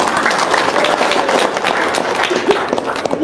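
An audience claps steadily through the whole stretch, a dense patter of hands at close range with a few faint voices mixed in.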